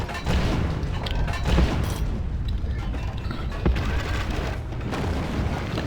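Artillery booms and rumbles in a Rome: Total War battle running the Roma Surrectum II mod, with deep thuds and mechanical creaks over a steady, dense background din.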